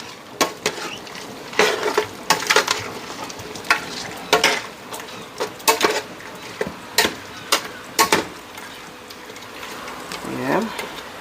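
A spoon works fresh seasoning into Jamaican curry goat in a pot: irregular sharp clacks and scrapes against the pot over a low simmering sizzle, with a voice talking in the background.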